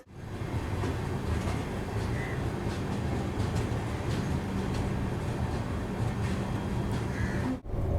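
The Trivandrum Rajdhani Express, a long-distance Indian train, runs at reduced speed, heard from onboard as a steady loud rumble and rattle with faint rhythmic clatter throughout, briefly dipping near the end.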